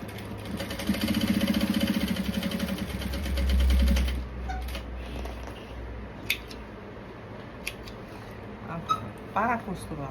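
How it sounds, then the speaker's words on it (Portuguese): A sewing machine stitches a seam on a garment lining with its presser foot, giving a rapid, steady mechanical whir for about four seconds before it stops, followed by quieter handling noises and a voice talking. "A gente vai bater a costura com o pé de máquina"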